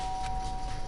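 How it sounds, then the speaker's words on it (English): A doorbell pressed in the video game Danganronpa gives a sustained steady electronic tone, held evenly for under a second over a quiet background hum. "I pressed the doorbell."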